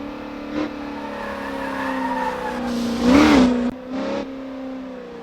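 A ZR1 sports car lapping a race track with traction control off, its engine droning loud and close while the tyres let out a sharp squeal midway, followed by another burst of revving.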